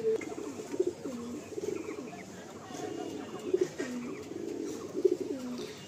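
Pigeons cooing in a loft, including a pair of black pigeons: repeated soft low coos in rhythmic bursts with brief throaty accents, fairly close, over faint background murmur.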